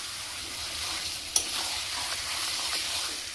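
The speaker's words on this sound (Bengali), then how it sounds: "ম্যারিনেট করে রাখা মাংসটা দিয়ে দিলাম" Chicken marinated in yogurt and turmeric, mixed with ground spices, fries in a pan with a steady, dense sizzle throughout, close and even, with one brief clink partway through and no voices.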